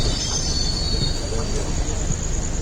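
An Ernakulam–Pune superfast express on the Konkan Railway pulls out of Ratnagiri behind an electric locomotive, giving a loud, steady rolling rumble with a thin metallic wheel squeal running throughout.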